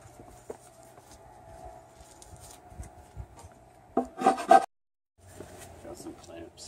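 Rough sanding and filing on a wooden rudder edge produces intermittent scraping rasps, faint for a while and then a louder cluster of close strokes, with a steady tonal background hum and short silent gaps.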